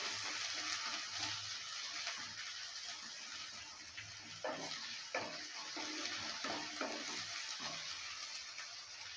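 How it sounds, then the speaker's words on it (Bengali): Grated ginger being stirred into a sizzling pan mixture for a kachki fish chorchori with potato and eggplant: a steady loud frying hiss throughout, with scraping stirs clustered in the second half and no talking. "আদাটা দেওয়ার পর ভালো করে আবারও নেড়ে নিচ্ছে"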